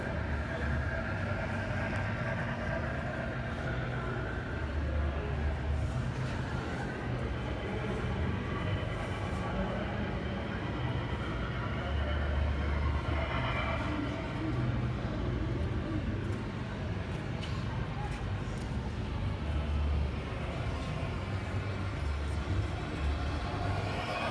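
Continuous rumbling and clattering of HO-scale model trains rolling along a club layout's tracks, a steady mechanical drone with faint clicks, no voices.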